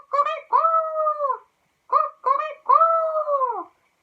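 A rooster crows twice in a farmyard setting. Each call starts with short clipped notes and ends in a long, drawn-out tone, and the two calls are separated by a brief pause.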